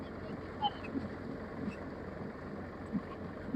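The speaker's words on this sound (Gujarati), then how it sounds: "હલર વાળું ટ્રેક્ટર કામ મારે ફૂકુક ફૂકુક ફૂકુક" A tractor running a thresher drones low and steadily throughout, with faint voices in the background, during a peanut harvest.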